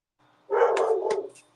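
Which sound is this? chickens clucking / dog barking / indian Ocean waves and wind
dog barking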